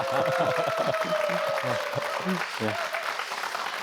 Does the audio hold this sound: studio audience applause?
yes